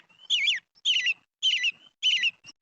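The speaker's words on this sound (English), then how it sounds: "there is the sound app here that I can actually play different bird songs" Recorded birdsong played back from a bird identification app: four clear, evenly spaced bursts of bright chirping notes, each about a quarter second long with short pauses between, close and alone with no talking.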